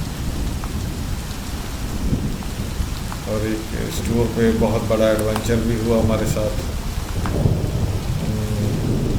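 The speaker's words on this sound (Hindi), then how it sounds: "अभी ये देखें बारिश कितनी तेज़ हो गई है, ओले भी गिरने शुरू हो गए हैं" Heavy rain with hail and thunder pours down on a mountain trek from Nathiagali to Beeran Gali in Pakistan, a steady, dense hiss of falling water throughout while someone talks over it.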